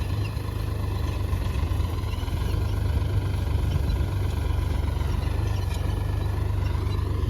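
A tractor with more than 3000 hours of use runs steadily nearby in a field, its engine a constant low rumble with no change in pace and no voices.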